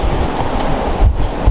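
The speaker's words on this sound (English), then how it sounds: "It's actually raining pretty good" Heavy rain and wind roar outdoors as a dense, steady hiss with gusts thumping the microphone, loud and close, no voices.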